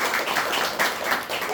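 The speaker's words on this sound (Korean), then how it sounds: "박수 한번 부탁드립니다" Audience applause at a book talk event, a short burst of steady clapping from a small crowd, fairly close and filling the moment.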